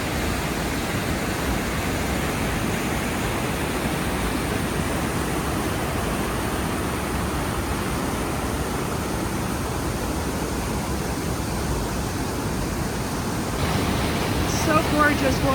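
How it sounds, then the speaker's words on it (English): Avalanche Creek in Glacier National Park rushing along a trail, a loud, constant roar of churning water close by that fills the whole stretch, swelling slightly near the end. "Okay, this is Avalanche Creek."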